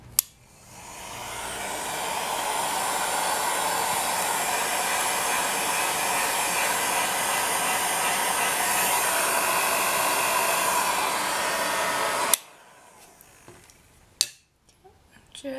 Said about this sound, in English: Right, let's heat gun it. And you'll want it on your hottest setting,